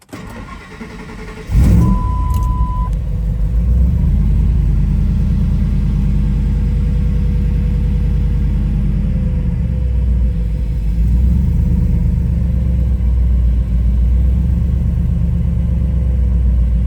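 A built Ford SVT Lightning pickup running on a Holley Terminator X fires up with a brief crank and catch, then settles into a steady, loud, even idle that carries on alone without voices.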